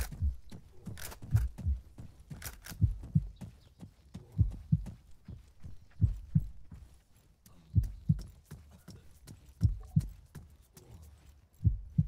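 Heartbeat effect from the video game ArmA 3, slow paired thumps repeating steadily and fairly faint, with sharp clicks in between.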